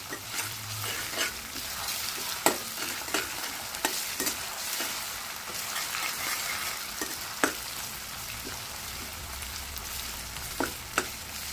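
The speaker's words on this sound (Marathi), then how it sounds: "आपण आता त्यामध्ये आलं लसूण मिरची कोथिंबीरची पेस्ट घालूया, ती परतून घेऊया" Ginger, garlic, chili and coriander paste sautés with browned onion for a mushroom bhaji: a low steady sizzle broken by sharp spatula clacks against the pan at irregular intervals, with no speech.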